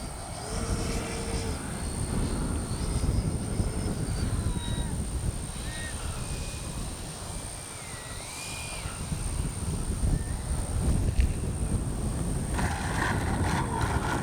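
A Freewing 70mm Yak 130 RC jet comes in to land with flaps down, a steady rushing roar with shifting whines at moderate distance, lasting throughout with small swells in loudness.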